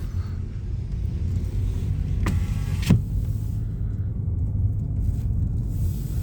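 A car drives along a newly built road, with a steady, loud interior rumble of tyres and engine, a couple of brief squeaks midway, and no one talking.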